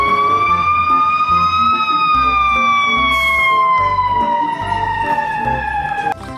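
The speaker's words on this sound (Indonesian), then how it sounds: "lihat teman-teman, di sini ada mobil pemadam kebakaran." A loud, close electronic siren from a toy fire truck wailing in a slow falling tone, with a pulsing beat underneath.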